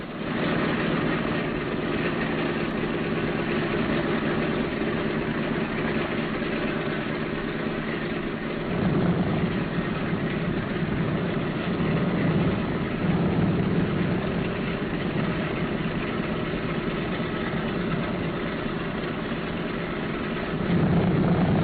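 Piston engines of a B-17 bomber running on the ground, a dense steady droning roar with low throbbing rumble, loud and continuous throughout with slight swells, no voices.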